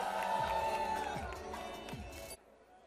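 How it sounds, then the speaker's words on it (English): Audience applause and cheering from a crowd at a college film-promotion event, a dense broadband roar that stays loud, then cuts off abruptly near the end. "Please give them a huge round of applause"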